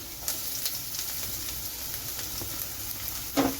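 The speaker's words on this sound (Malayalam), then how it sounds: "ഒന്ന് ഇളക്കി കൊടുക്കാം" Ginger and garlic fry for a tuna dish with a soft continuous sizzle, punctuated by a few stirring scrapes and a louder clack near the end; no talking.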